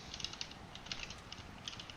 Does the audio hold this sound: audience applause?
no